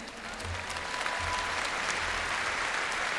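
Audience applause at a church music and testimony gathering, a steady wash of many hands clapping that swells slightly and holds throughout, with low thumps underneath.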